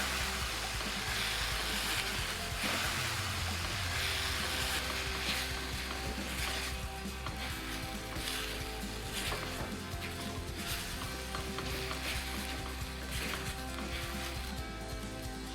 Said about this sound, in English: I love the smell of fresh ginger hitting a hot pan.